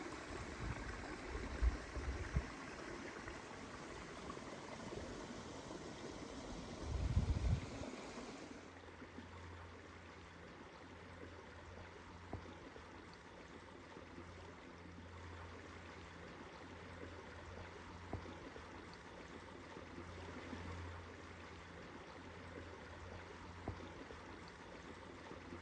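A stream in Southern California flows with a soft, steady rush that is louder and fuller at first, then settles into a quieter, continuous trickle heard from a short distance.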